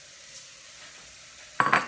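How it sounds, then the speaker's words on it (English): Lentils and water hitting a hot pan with a short burst of sizzling and stirring near the end, close and sudden after a quiet stretch. "this is going to sizzle a little bit"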